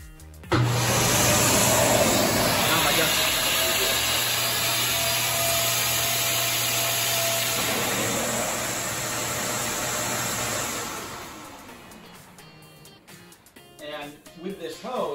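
A shop dust collection system switched on by remote runs with a loud, steady broadband roar and a constant low hum for about ten seconds, then winds down and fades. Scattered quieter knocks and movement follow near the end.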